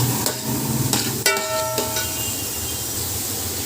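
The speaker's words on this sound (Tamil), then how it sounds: "இதெல்லாம் ஆட் பண்ணிவிட்டு நல்லா நம்ம ஸ்டீர் பண்ணி விட்டுடலாம்" Cabbage, mushrooms and vegetables are stirred in a cooking pot, with a spoon clinking and scraping in a few distinct strikes over a steady sizzling hiss.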